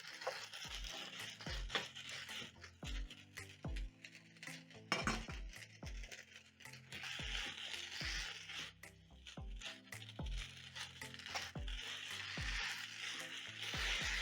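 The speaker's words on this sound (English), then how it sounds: "I'm going to toss my spaghetti into the delicious veggies" Spaghetti is tossed and stirred with zucchini and capsicum in a pan, giving repeated clanking utensil knocks against the pan over a soft sizzle, close and rhythmic, with no talking.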